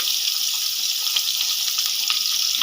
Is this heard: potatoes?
yes